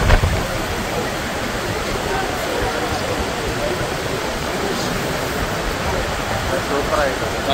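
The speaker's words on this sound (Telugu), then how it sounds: "American Niagara falls," The American Falls at Niagara Falls roar as a steady, dense wash of falling water, continuous and fairly loud with no breaks across the stretch.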